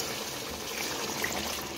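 Water streams steadily into a pot, a continuous splashing trickle lasting a couple of seconds with no voices.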